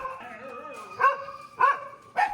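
Dogs at an animal shelter in Varanasi, India, during evening feeding time, with several excited barks and yips rising over a steady background of whining and whimpering.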